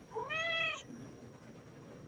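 Pet cat gives one clear, rising-then-falling meow close by, followed by quiet room noise and a brief bump at the end.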